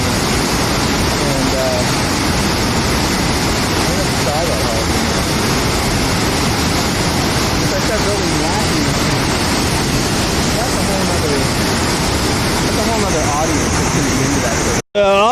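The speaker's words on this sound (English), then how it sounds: "River up there, river down there. River in the front, river in the back." A mountain river rushes loudly and steadily along the Deception Creek hiking trail, a dense roar of whitewater filling the scene from close by without pause.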